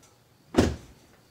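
Door of a 2016 Toyota Tundra opening with AMP Research power running boards deploying: one short, fairly loud mechanical thump and whir lasting a fraction of a second, then quiet.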